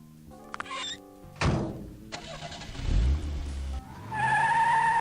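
A cartoon car in the adventure game Sam & Max Hit the Road starts up and drives off, with a thunk of doors, an engine rumble building and a skid-like screech, all loud and close without talk.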